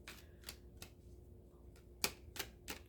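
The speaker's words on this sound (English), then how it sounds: "So we're just going to shuffle a little bit more." A deck of cards is shuffled by hand in a series of soft, crisp riffles and snaps. The sharp bursts come in uneven groups, close and faint, with no talking.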